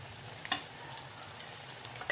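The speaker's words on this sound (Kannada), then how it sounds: "ಇವಾಗ ಈರುಳ್ಳಿ ಹಾಕೋತೀವಿ ನೋಡ್ರಿ." Finely chopped onions fry in hot oil in a pan for a homemade sabudana phalar, giving a faint, steady sizzle with a couple of sharp clinks from the pan.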